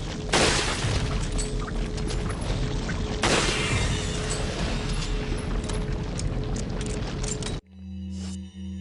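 Two heavy booming rifle shots fired in Resident Evil 4, each a loud sharp blast followed by a long rumbling decay over constant game ambience, then an abrupt cut to quieter humming sound near the end.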